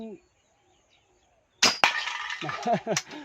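A slingshot gun fitted with a laser sight fires two sharp snapping shots in quick succession, loud and close, followed by a brief rattling clatter, with someone speaking before and after.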